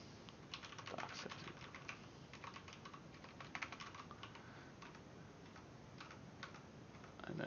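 Typing on a computer keyboard, with quiet irregular bursts of light key clicks and short pauses, close but soft, and no talking.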